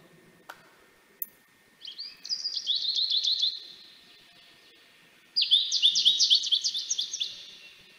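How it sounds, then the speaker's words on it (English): Goldfinch song in two bright, twittering bursts of rapid chirps and trills, each lasting a couple of seconds with a pause between, clear and fairly close against a quiet background. "Now let's listen first to the beautiful sound of goldfinch."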